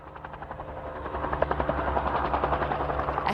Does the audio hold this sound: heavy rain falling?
no